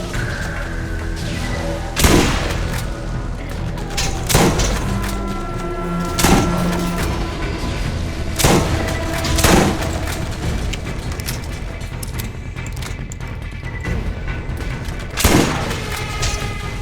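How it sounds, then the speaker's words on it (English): Combat shotgun gunfire in the video game Borderlands: loud, sharp blasts ring out at irregular intervals, about seven shots, over a steady backdrop of game music and ambience. "Combat shotguns"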